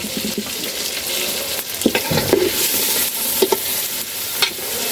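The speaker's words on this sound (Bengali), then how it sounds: "পেঁয়াজগুলো এভাবে তেলের ভেতর হালকা একটু ভাজবেন" Chopped onion fries in hot oil in a pot for chicken biryani, giving a continuous bright sizzle broken by occasional stirring scrapes and clatters, close up with no talk.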